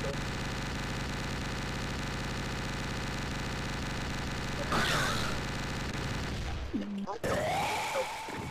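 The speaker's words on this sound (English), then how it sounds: "I got a chain gun" Rapid, steady automatic fire from the chain gun in the video game Doom, a dense rattling stream that runs for several seconds before breaking off into other game effects, with players talking over it.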